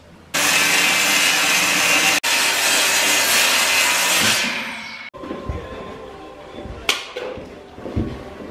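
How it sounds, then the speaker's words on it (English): A power saw rips through a sheet of plywood for barn wall covering, a loud, continuous rasping cut lasting about four seconds before winding down, followed by quieter knocks and handling of the wood. "We're going to start cutting some plywood and covering walls."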